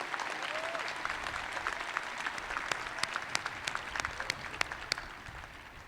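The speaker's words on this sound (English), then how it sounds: "Please join me in applauding the accomplishments of these finalists for the Outstanding Graduating Senior" An audience applauds finalists at a university honors convocation, with soft, even clapping from a large hall and a few sharper individual claps standing out near the end.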